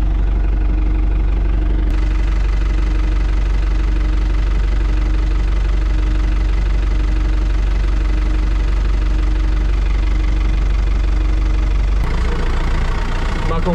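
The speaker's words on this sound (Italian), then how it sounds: "Ma con questo trattore non ci dovrebbe essere problemi." Tractor engine idling steadily during a grape harvest in a vineyard, a low continuous rumble with a faint knocking pulse, loud and close, running throughout with a brief change in tone near the end.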